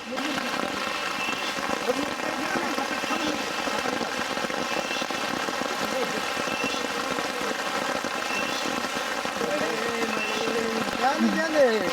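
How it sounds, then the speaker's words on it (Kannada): Steady rain falls in a continuous dense hiss at Abbi Falls near Mookanamane during the monsoon, with a person talking faintly underneath. "ಸುತ್ತಮುತ್ತ ಮಳೆ ಇದೆ, ಜಾಲಿ."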